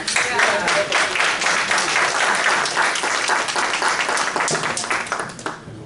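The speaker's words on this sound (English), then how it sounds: "I just want to give you guys a round of applause" An audience at a nonprofit fundraising academy gives a steady round of applause, dense clapping held at an even level for several seconds before tapering slightly at the end.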